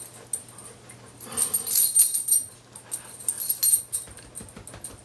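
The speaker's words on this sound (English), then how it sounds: "I have the world's neediest dog." A dog whimpers and whines in high, thin bursts, rising into two clusters of strained cries with short pauses between, close by and fairly loud, with no speech over it.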